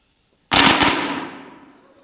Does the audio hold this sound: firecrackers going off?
yes